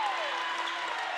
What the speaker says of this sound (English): The crowd let their voices be known on that call